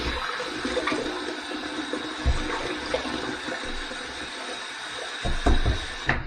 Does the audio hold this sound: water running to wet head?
yes